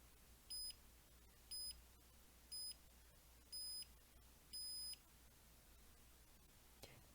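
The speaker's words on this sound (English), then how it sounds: "we heard beeps before the release" Five short electronic beeps from a TXSmart daily-routine system sound at a steady interval before a release, faint and thin over a low hiss, with no talking.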